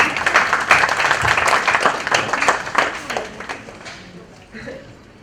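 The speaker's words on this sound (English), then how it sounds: "Applause." An audience at a book launch applauds, with dense, lively clapping that holds strong for a few seconds, then thins out and tapers away.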